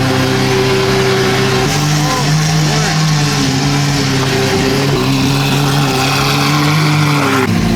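A Lamborghini Aventador engine fires up and revs near at hand, loud rising and falling pitch sweeps over a deep steady idle, with excited voices talking over it.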